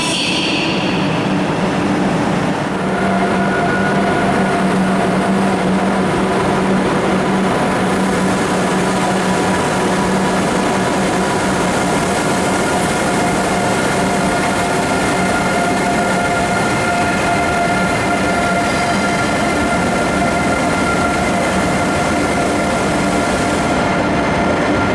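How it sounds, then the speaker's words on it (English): A RENFE TGV-style intercity train rumbles loudly and continuously, with steady rolling noise and faint tonal whines rising from the wheels and traction motors, holding even throughout. "This here is one of RENFE's TGV style trains,"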